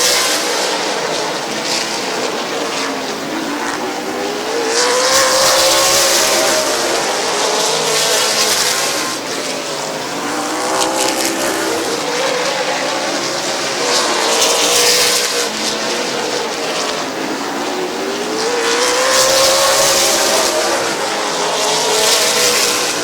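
Race cars roar around the Midvale Speedway oval, their engines rising and fading in repeated loud passes as the pack circles the track, with no talk over the steady din.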